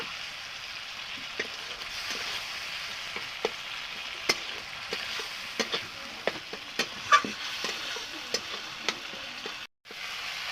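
Tomatoes frying with masala spices in a pan, a steady close sizzle with scattered small pops and occasional scraping stir clicks, continuing evenly throughout with no talk.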